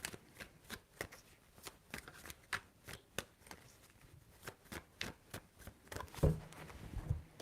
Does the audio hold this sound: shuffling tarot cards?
yes